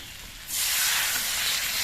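Broth poured into a pan of frying vegetables and turmeric, with quiet frying that bursts into loud, steady hissing sizzle partway through and holds to the end.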